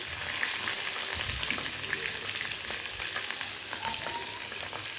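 Three cabbage leaf snacks fry together in a pan, a continuous hiss of sizzling oil with small pops and crackles, close and steady without pauses.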